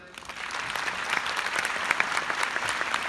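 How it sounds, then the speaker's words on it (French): A room full of people at a social media panel event in Barcelona applauds a speaker, moderately loud sustained clapping that builds slightly and holds steady throughout. "On peut l'applaudir s'il vous plaît."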